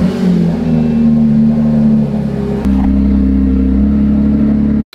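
A Porsche GT3 running in limp mode drones with a steady, loud engine note close by, its pitch shifting once partway through as it revs, then cutting off abruptly at the end, with no voices.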